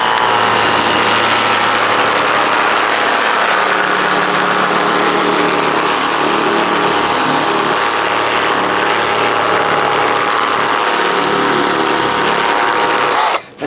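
A Ryobi 36V HP power washer in turbo mode at speed setting 3 blasts dirt off a trampoline, giving a loud, steady motor whine and hiss of spray that runs unbroken before stopping abruptly at the end.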